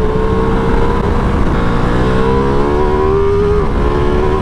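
A Ducati Multistrada V4S motorcycle pulls a fifth-gear throttle roll-on. The loud, close engine note climbs smoothly and continuously in pitch with no gear change, and no one speaks.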